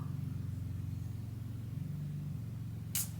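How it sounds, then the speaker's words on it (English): A neighbour's very loud car drives nearby as a steady, low engine rumble that holds without a break, muffled and somewhat distant, with a brief sharp click near the end. "Ignore my neighbour, they like to drive their very loud car."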